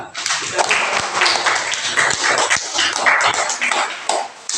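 Students in a classroom clapping their hands together, a loud, dense burst of many close claps running continuously with bright sharp slaps and some chatter mixed in.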